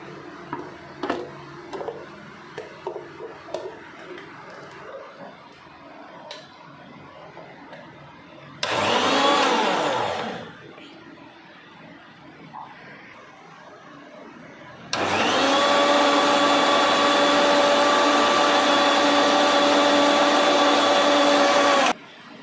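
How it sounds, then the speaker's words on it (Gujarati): An electric mixer grinder blending raw mango with mint leaves, heard as a loud, steady whirring burst of about two seconds, then a longer run of about seven seconds, after light clicks and handling taps. "હવે તેને આપણે મિક્સરમાં પીસી લઈશું."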